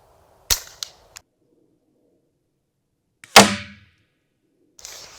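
An unsuppressed Ruger 10/22 rifle fires Aguila Colibri primer-only rounds: two sharp, close cracks about three seconds apart, the second louder and ringing longer. A few faint clicks and taps sit between and after the shots.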